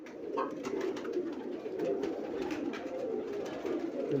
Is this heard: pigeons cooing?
yes